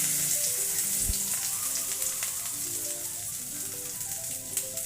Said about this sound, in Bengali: এবারে ওই তেলের মধ্যেই আমি ফোড়ন দিলাম 2টো তেজপাতা